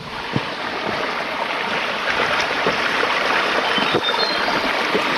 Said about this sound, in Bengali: ঝর্নার ভালো হাওয়া যাচ্ছে এখানে